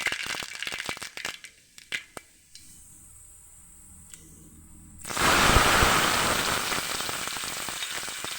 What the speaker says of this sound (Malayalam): കടുക് ഇട്ടു.